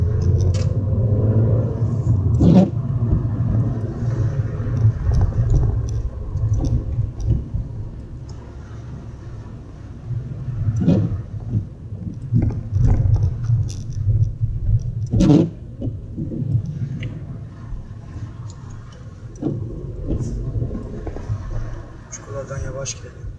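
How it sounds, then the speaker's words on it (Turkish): Car rolling slowly over a potholed road, with a steady low engine rumble and occasional sharp thumps and knocks as the wheels drop into holes; people talk over it throughout. "Çukurlardan yavaş gidelim. Araba zarar görmesin."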